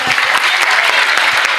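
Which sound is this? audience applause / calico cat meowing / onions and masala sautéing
audience applause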